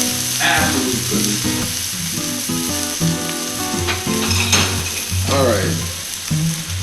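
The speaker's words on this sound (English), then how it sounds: "And then I'm going to put the steak right in the pan." Steak frying in a very hot pan, a dense, steady sizzle close up that carries through the whole stretch, with clattering kitchen noises and someone speaking briefly.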